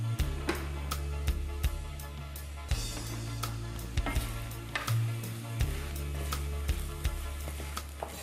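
Shrimp cooking in a pan with herbs and spring onion, a soft steady sizzle broken by sharp clicks and scraping taps against a low electrical hum, no talking.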